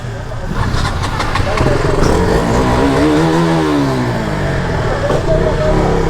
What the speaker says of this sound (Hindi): तो भाई अभी बाइक को करते हैं स्टार्ट।